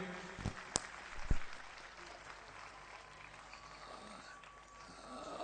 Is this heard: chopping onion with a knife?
no